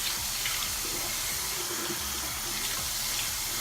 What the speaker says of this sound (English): So I do 2 to 3 splashes of water while the water is warm.